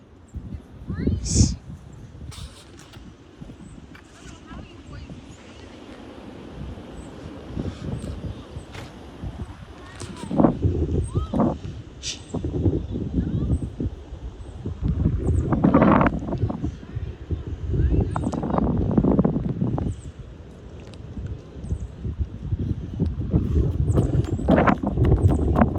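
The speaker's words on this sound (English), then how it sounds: "It's really windy out here." Strong wind blows outdoors near trees, gusting in heavy, irregular rumbles and buffets against the microphone that build and surge over nearly half a minute, with occasional voices in the mix.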